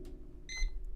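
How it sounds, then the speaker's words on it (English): A timer gives one short electronic beep in the middle of a quiet indoor stretch, clear but moderately soft. "You can hear the timer."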